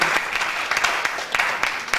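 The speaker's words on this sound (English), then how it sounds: "Round of applause for Chloe." An audience at an innovation pitch competition applauds a presenter, brief dense clapping with a few sharper claps standing out, fairly close and steady.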